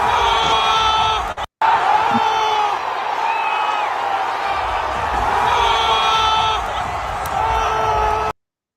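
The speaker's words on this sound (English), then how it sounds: "And the crowd goes wild." A large stadium crowd at a baseball game roars in a sustained, loud wash of cheering and whoops, with a brief dropout partway through before the noise swells back up.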